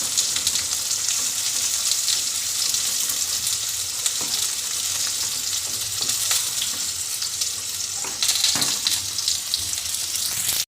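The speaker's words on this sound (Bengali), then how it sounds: "মাছগুলো একটু বয়েল হোক" Magur fish boiling and frying in a curry sauce, a steady broadband sizzle and bubble throughout with occasional louder crackles, no voices.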